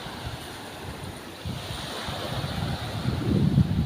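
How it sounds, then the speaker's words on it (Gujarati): Sea waves wash in at a beach, a loud continuous rushing surf that swells toward the end, with wind buffeting the microphone and no voices. "તો બહુ મજાનો મસ્તીનો દરિયો છે"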